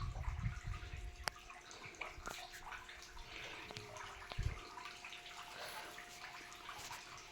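Water runs into a village well, a soft continuous trickle and splash with a few sharp drips and knocks, faint and close, with no voices.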